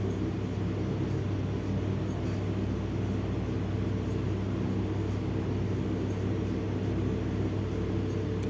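An electric hand mixer running at high speed through sponge cake batter with flour, a steady unbroken whirring hum at moderate level, no voices.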